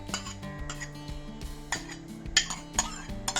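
Mashed lentils being mixed into Tamil-style rasam in a pot, a spoon scraping and knocking against the metal in irregular clinks and scrapes, close and moderately loud, with no talking.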